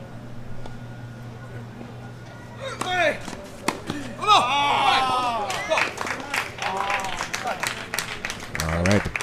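Spectators at the Coral Oaks Invitational tennis event break into applause and cheers after a won point, clapping rising sharply partway through and continuing with whoops under a commentator's voice.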